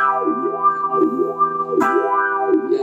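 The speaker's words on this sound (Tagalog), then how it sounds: "So, yun yung tunog ng wah." Sustained electric guitar chords run through a Joyo Vision Dual Modulation pedal's auto-wah, the tone sweeping up and down in regular wah pulses about every three-quarters of a second, loud and with no voices.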